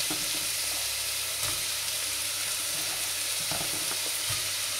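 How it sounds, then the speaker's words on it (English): Onions frying in a pan for chicken stroganoff give a dense, continuous, loud sizzle with a few soft stirring knocks, heard up close without talk. "So we're adding some onions here at this stage."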